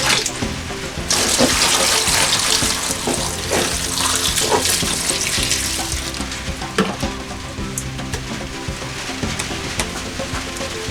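Water poured into a cooking pot over a fire in an African village kitchen, a steady rushing splash with faint crackle and clatter throughout, no talking.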